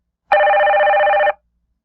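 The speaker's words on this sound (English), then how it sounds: "I think that's a pretty realistic office phone sound" An office telephone rings with one steady electronic bell tone lasting about a second, loud and close, with silence on either side.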